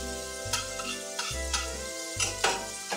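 Vegetables sautéing in a pan with a little oil and leftover shrimp juices, sizzling steadily up close with periodic stirring scrapes, while music plays in the background.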